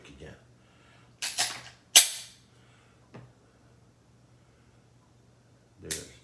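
Sig Sauer P365 pistol handled during unboxing, giving a few sharp mechanical clicks and snaps spaced across a few seconds, close and fairly loud over a faint steady hum.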